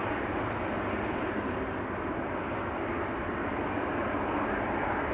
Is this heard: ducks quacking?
no